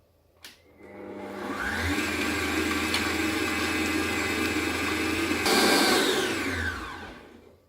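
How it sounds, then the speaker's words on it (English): Pancake batter is whisked until smooth, most likely with an electric mixer, giving a steady, close whirring drone for about six seconds that briefly rises in pitch near the end, with no talk. "Whisk until smooth and fluffy."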